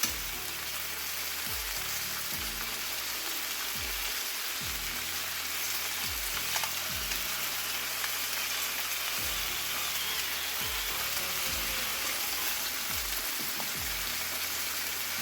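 Pork chops, seasoned with salt and pepper, fry steadily in a pan for honey-garlic chops, giving a continuous dense sizzle with crackling pops throughout, close and even in loudness, with no voices.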